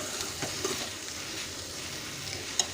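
Steady crackling sizzle of pumpkin leaves and stems frying in hot oil tempering, with a few soft stirring scrapes and a sharp clink near the end.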